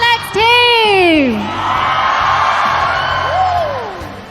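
Esports arena crowd at an MSC 2023 group-stage match cheering loudly for a team, with whoops and rising shouts over a sustained roar of many voices.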